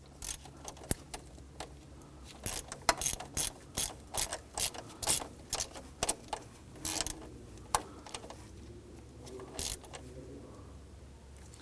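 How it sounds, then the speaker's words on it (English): A ratchet with a 13mm socket clicks in repeated quick bursts while tightening a replacement starter nut on a 2011-2015 Kia Sorento, close and distinct in a quiet setting. "I'm going to go ahead and use a 13mm socket on the replacement nut."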